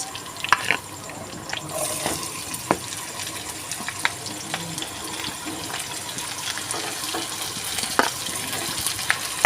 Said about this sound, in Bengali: আমার লাল লাল করে ভাজা হয়ে গেছে এর মধ্যে দিয়ে দেব কুচিয়ে রাখা পেঁয়াজ